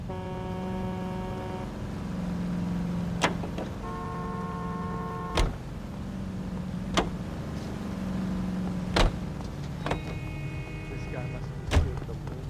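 A car drives in the video game L.A. Noire with a steady engine hum, broken by sharp thumps and clunks at intervals while a tonal hum rises and falls. Voices talk over part of it.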